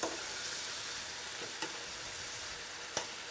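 Steady, dense sizzling of vegetable ratatouille frying in a pan, with a few brief clinks or stirs cutting through the constant crackle.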